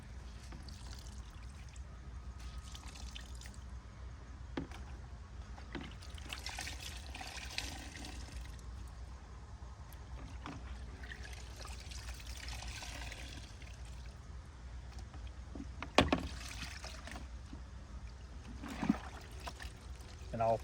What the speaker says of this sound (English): Try to wring out as much of the soap as possible.